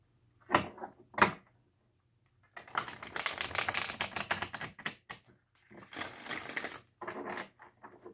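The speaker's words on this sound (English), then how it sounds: "Okay, one more shuffle." Tarot cards being shuffled by hand in quick, papery bursts: two short riffles, then a long rattling flurry of several seconds, then more riffles, close and alone with no talk.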